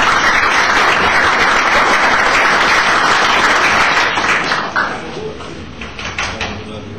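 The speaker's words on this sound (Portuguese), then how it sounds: "Pedir uma salva de palmas à nossa comissão eleitoral, por favor." A crowd applauds an electoral commission at an election event, sustained loud clapping for about four seconds that then thins out and tapers off.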